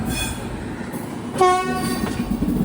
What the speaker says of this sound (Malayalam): സ്റ്റേഷനിലേക്ക് ഇതാ ട്രെയിനെത്തുകയാണ്.